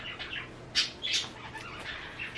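Pet birds squawk and chirp indoors in short, sharp bursts scattered over a couple of seconds, two louder calls standing out near the start, fairly close against a quiet room.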